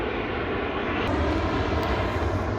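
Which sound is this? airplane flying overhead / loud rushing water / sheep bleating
airplane flying overhead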